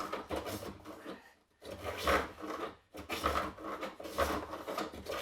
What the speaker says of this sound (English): it was just a case of using a spoke shave to fair that curve and to make it all nice